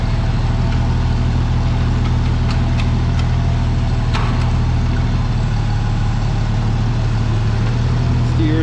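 A stripped-down 880 vehicle's engine idles and runs loudly close by as it backs up, a heavy continuous low rumble with a few faint clicks and squeaks on top.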